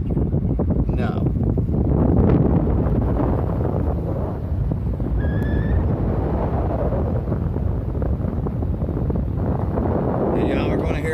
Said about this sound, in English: y'all are going to hear a lot of wind and stuff where she's driving